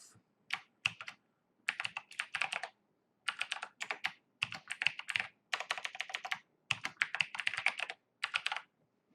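Fingers typing a password on a computer keyboard, close and fairly soft: quick runs of clicky keystrokes in bursts of one to two seconds, with brief pauses between them and no talking.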